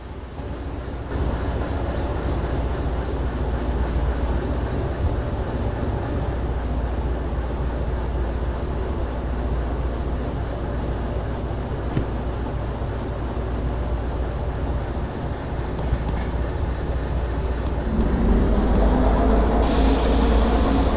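A freight train rolls along in the Derail Valley simulator while shunting at a steel mill: a steady, loud rumble of wheels and wagons that holds for the whole stretch and swells slightly near the end.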